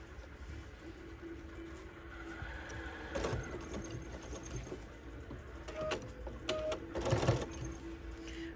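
Domestic sewing machine stitching slowly through a quilt block near a mitered edge, a soft steady hum with a few brief louder bursts of faster stitching and small clicks, close and fairly quiet.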